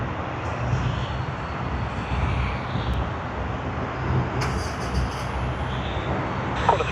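Aircraft taking off from runway 16 right at Sydney Airport: a broad, steady jet roar heard at a distance, holding fairly level throughout with faint higher whines drifting in and out.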